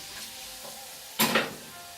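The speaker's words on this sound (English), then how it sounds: "give the onions a bit of a stir" Onions frying in a pan hiss softly while a utensil scrapes and stirs them, giving a short burst of louder scraping near the middle, close up and without talking.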